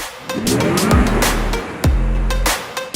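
A 2021 Audi e-tron electric SUV driving and accelerating on a first drive, with loud rushing road and wind noise punctuated by sweeping whooshes of passing vehicles, close and continuous without talk.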